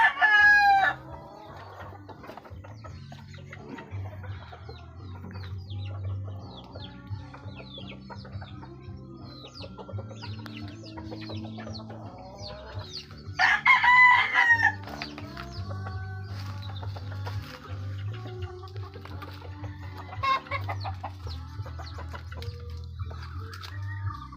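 Young roosters (stags) and chickens on a farm keep up steady clucking and chatter, with a loud rooster crow at the start and another in the middle, close by, over a low background hum.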